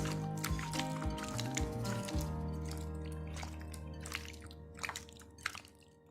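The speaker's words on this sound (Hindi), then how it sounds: "अब मैं इसको अच्छी तरह से मिक्स कर लूंगी" Chicken marinated with salt, soy sauce and chili sauce is mixed by hand, producing wet squishing and sloshing sounds, dense at first, then thinning into scattered sticky squelches and drips.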